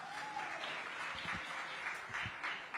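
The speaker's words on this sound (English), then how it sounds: "So a big round of applause for all of us" A crowd applauds at a She Shakti event, with a continuous, moderately distant clapping wash for a few seconds and some low murmuring underneath.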